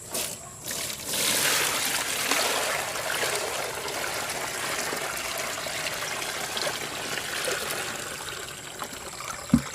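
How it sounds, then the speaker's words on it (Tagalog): Water is strained while setting up a self-watering plant pot, a steady trickling and splashing pour that lasts several seconds with no talk over it. "At ito naman tubig ay ating sasalain."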